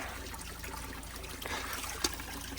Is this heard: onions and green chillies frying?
no